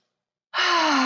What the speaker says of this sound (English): Take another big breath.